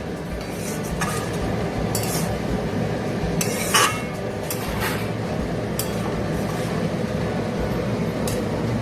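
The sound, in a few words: stirring Bombay fish jhuro in a pan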